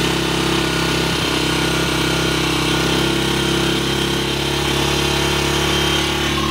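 A Skygo King 150cc motorcycle engine runs steadily after its carburetor air screw is opened a half turn, a loud, even mid-pitched drone with a constant low throb and no voices.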